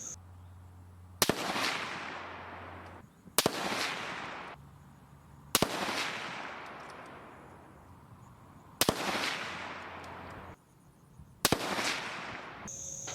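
Five unsuppressed rifle shots at a 100-yard range with a Deadair Primal suppressor removed, each a sharp loud crack with a long decaying echo, spaced roughly two seconds apart.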